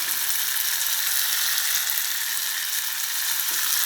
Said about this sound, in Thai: แล้วก็ใส่ลงไปพร้อมกัน แล้วก็ผัดผัดให้สุก